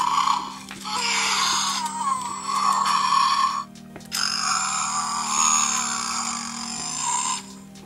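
An Untamed Fingerlings Sabertooth toy cat from WowWee, 2018, makes two long electronic snoring sounds close by, each a raspy breath lasting several seconds with a short pause between them, and no talk.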